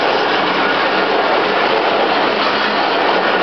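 The Rohi Express train, hauled by a GMCU15 locomotive, starts to move with a loud, continuous, close rumble and rolling noise; no one speaks.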